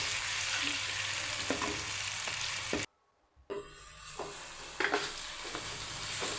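Potatoes and carrots cooking in gravy in a pan, a continuous close sizzle with spoon stirring scrapes, broken by a brief silent gap before the sizzling resumes with a few louder knocks.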